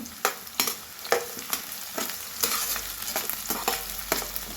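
Onions and whole green chillies sautéing in a pan for a Tamil pomfret fish curry, a steady sizzle broken by regular scraping strokes of a spoon, close and clear with no talk.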